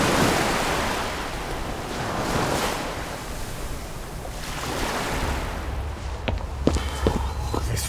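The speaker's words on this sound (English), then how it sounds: "This wind out of the sea gets into my bones" Wind and surf off the sea fill the radio drama scene as a steady rushing roar with swelling waves. Near the end, a few crisp footstep-like knocks sound close by.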